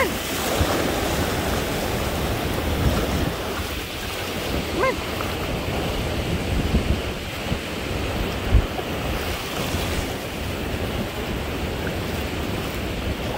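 Ocean waves wash steadily onto a beach, a continuous loud surf roar with rolling swells and some wind buffeting the microphone throughout.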